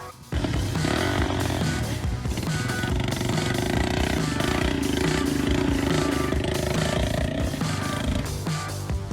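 A loud, steady homemade crawler (tracked) motorcycle engine roars continuously at close range, with rattling mechanical clatter throughout.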